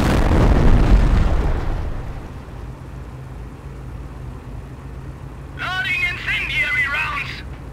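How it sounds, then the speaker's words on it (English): An incendiary mortar round from a half-track barrage in Company of Heroes bursts with a loud, rumbling blast at the start that decays, then a voice speaks near the end. "Order the half-track to barrage the infantry with incendiary rounds again"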